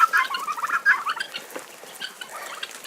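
Chickens let out of their coop in the morning, a small flock clucking and squawking nearby in a quick, uneven chatter that eases off into softer calls.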